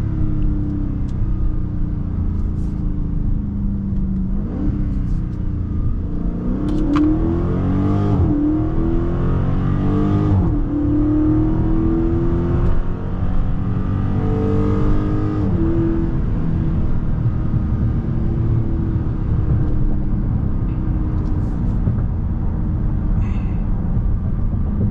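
Dodge Challenger engine droning and revving while driving, a steady loud low rumble with rising and falling pitch sweeps as it accelerates, heard alone without talk.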